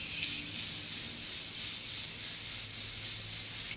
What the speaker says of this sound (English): now I'm going to spray my face with my Morphe Continuous Setting Spray